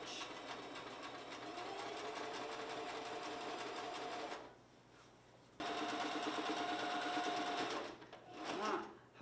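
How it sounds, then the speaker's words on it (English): A sewing machine back stitches and forward stitches on a ribbon skirt, running in close, steady bursts with a brief pause midway and a few soft handling noises at the end. "Always back stitch and then forward stitch."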